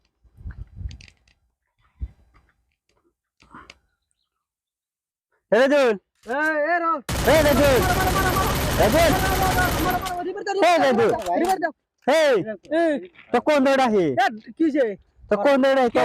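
A burst of rapid automatic gunfire from the mobile shooter game Free Fire rattles for about three seconds midway through, surrounded by excited chatter and exclamations from people nearby.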